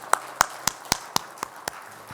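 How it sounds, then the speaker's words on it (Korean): A congregation at a Korean church service claps in a steady, even rhythm, with about eight distinct claps in a row that fade slightly toward the end. "우리 하나님께 감사의 영광의 박수 올려드릴까요?"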